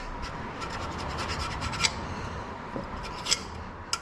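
A scraper rasps old gasket material off a fuel pump mounting surface on an engine, a steady close scratching broken by a few sharper scrapes.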